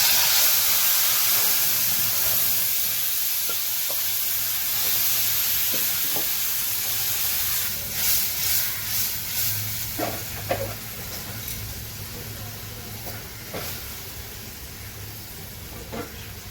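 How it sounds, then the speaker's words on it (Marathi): Bombay duck fish and garlic frying in hot oil in a pan, a steady loud sizzle and hiss with occasional scraping stirs and clinks toward the end, close and without talk. "लसूण होत आलेला आहे, आता आपण हे बोंबील घालू।"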